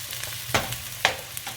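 Home-fry potatoes fry in a skillet with a steady close sizzle, broken by two sharp scraping flips about half a second apart and a lighter stir near the end.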